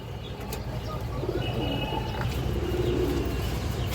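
Old breeding pigeons in a loft coo in a low, steady murmur, with scattered chirps from other birds over a continuous background hum.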